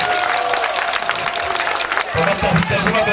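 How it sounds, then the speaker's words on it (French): At a community celebration, a crowd claps loudly and steadily to honour an elder man called Papa Tassi, with cheering and voices mixed into the dense applause. "J'aimerais que vous l'applaudissiez très fort."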